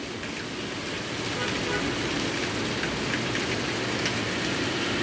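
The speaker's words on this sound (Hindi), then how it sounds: "बारिश हो रही है।" Steady heavy rain falls in Malaysia, a dense, even hiss that stays loud and unbroken throughout, with a faint engine-like rumble low underneath.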